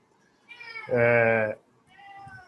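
A house cat lets out one drawn-out, fairly loud meow close by indoors, followed by a softer second call, with a voice speaking lightly around it.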